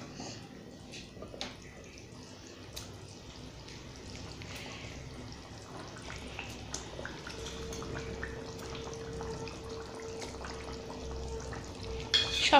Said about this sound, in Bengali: এতে এবার মাছগুলো দিয়ে দেবো।